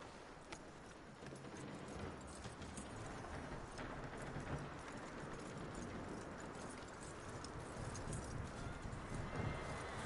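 A horse in Red Dead Redemption II clip-clops steadily and continuously, with hoofbeats close and moderately loud over a busy outdoor background and a brief whinny mixed in.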